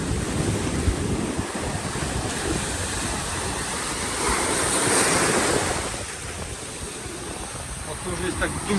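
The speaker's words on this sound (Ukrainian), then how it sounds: "На перший погляд хвилі такі ну невеликі, але потужні." Ocean surf breaks on a beach in Japan in summer, a continuous broad roar that swells and recedes. Heavy wind buffets the microphone.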